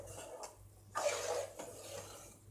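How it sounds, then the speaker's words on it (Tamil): A spoon stirs okra sambar in a metal pot, giving soft scraping and rubbing strokes against the pot with a brief louder burst in the middle, fairly quiet and with no talking. "ஸோ நல்லா கலக்கி விட்டுருவோம்."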